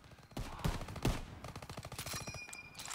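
Gunfire in Call of Duty: WWII on D-Day 1944, a handful of quick sharp shots followed by a rapid rattling burst, fairly quiet and distant against game ambience.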